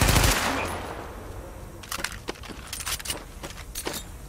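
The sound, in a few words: gunfire in video game The Division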